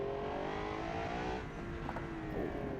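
Engine of a GT2 Pro race car in a racing video game, droning steadily with a rising harmonic whine and a brief dip as it shifts down a gear, loud and continuous with no talk.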